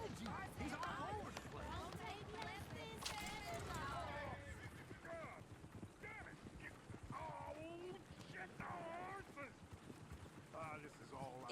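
A horse whinnies several times over clip-clopping hooves in the video game Red Dead Redemption 2, with people talking and other game sounds layered throughout.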